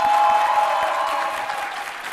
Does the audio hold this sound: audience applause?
yes